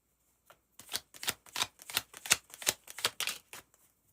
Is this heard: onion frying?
no